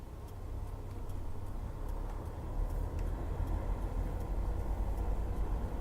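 An old Roman Diesel truck in Euro Truck Simulator 2 pulls away in second gear, its low engine drone building steadily and growing slightly louder, with faint ticking over the rumble.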